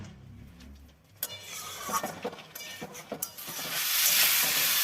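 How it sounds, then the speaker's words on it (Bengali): Potatoes and eggplant sizzle and get stirred in hot oil in a pan while being cooked down for a Bengali fish curry. A quiet start gives way to scraping stirs, and the sizzle then rises to a loud, steady hiss. "যতক্ষণ তেলটা না বেরোবে ততক্ষণ আমি কষবো"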